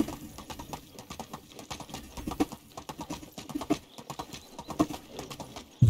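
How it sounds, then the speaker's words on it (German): Horse hooves clip-clop in a steady walking rhythm while riding in the medieval survival game Medieval Dynasty, close and moderately loud with no speech over them. "Dann lass uns mal schön gemütlich nach Panika reiten"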